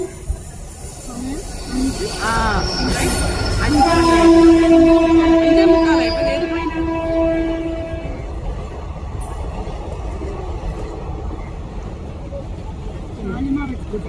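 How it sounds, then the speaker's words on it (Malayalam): The Shalimar Express passes close by at a railway crossing with a loud, sustained horn blast and a rumbling, hissing roll of wagons that gradually fades, while people talk. "നമ്മൾ റെയിൽവേ ക്രോസിംഗിൽ നിൽക്കുവാണ് ആ ട്രെയിൻ പോകുന്നുണ്ട്"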